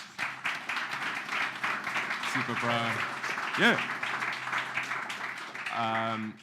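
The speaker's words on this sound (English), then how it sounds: "one last little round of applause for Alex again" An audience applauds at a freelancing meetup in South Africa, a steady moderate patter of clapping running under people talking close by.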